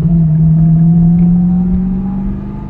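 A TVR Chimaera engine pulls under acceleration on the road, a loud close droning rumble with a steady rising tone that holds, then eases slightly toward the end.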